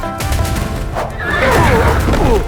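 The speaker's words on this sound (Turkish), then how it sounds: "Burada benden daha iyi bir ulak atı görüyor musun?" A horse gives a loud, close whinny that rises and wavers for over a second, following snorting and breathy sounds with faint hoof movement in the background.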